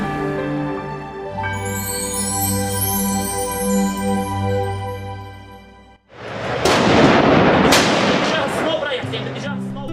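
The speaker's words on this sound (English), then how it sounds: "At the sound of gunfire, everyone looks fearful and apprehensive." Loud sustained music gives way to a burst of heavy, crackling bangs like gunfire, dense and noisy through the final seconds.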